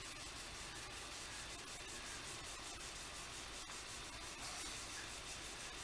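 Cleaner is rubbed into a guitar by hand, a steady soft hiss of cloth rubbing that goes on for several seconds, fairly faint and close, with no voices.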